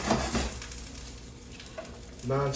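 Salmon fillets sizzle in melted butter in a hot pan, a steady soft frying hiss with a few brief bursts of spatter and a stronger crackle near the end.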